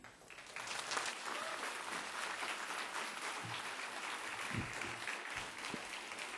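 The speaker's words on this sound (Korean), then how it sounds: "박수 쳐주셔서 감사합니다." Church congregation applauding to welcome pastor Jeong Young-taek to the pulpit at a Sunday service, sustained dense clapping filling the room at steady loudness throughout.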